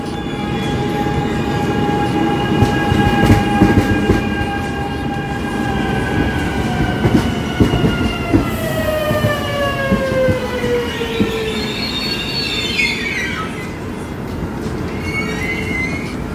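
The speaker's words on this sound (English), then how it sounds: "Here's the train going to airport." Airport-bound train to Oslo Airport in Norway, heard up close and loud with a sustained rumble, rhythmic wheel clatter and long rising-falling squealing tones from the wheels and motors, with no talking.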